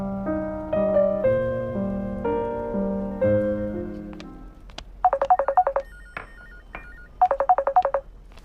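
A telephone ringtone: a tonal melodic phrase of sustained notes, then two fast trilling electronic ring bursts separated by a pause, loud and close with no talking.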